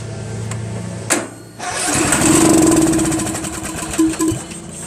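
A Craftsman LT1000 16 hp lawn tractor engine with its carburetor removed runs on starting fluid sprayed into the intake manifold: a sharp crank and a brief pause, then it fires up and runs loud and close, its speed surging and wavering.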